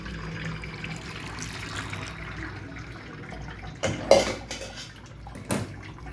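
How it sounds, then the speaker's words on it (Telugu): Hot water is poured over tripe sitting in a colander: a low running wash with a couple of sharper splashing bursts and light clatter partway through. "ఇలా వేడి నీళ్ళు పైనుంచి పోసాను."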